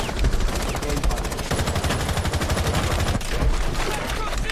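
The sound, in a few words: gunfire in Rainbow Six Siege video game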